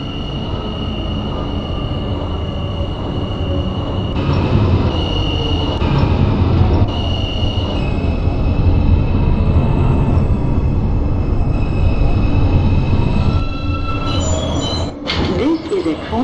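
An R160A Q local subway train on the Coney Island line runs steadily in the OpenBVE simulator, with a continuous loud rumble of motors and wheels, a high whine, and a brief squeal and clatter near the end.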